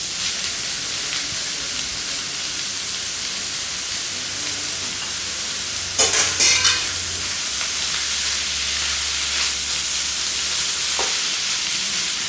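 Fried rice sizzles steadily in a hot pan as soy sauce is added, with a brief louder crackle and a few scraping stirs over continuous close frying.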